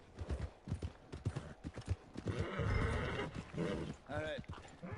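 A horse in Red Dead Redemption 2 gives a loud, wavering neigh near the end, after a stretch of clip-clopping hooves and snorting, with a voice talking over the start.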